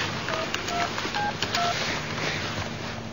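Telephone number dialed by keypad, a quick series of separate DTMF tones beeping close by over a faint background hum, no voices.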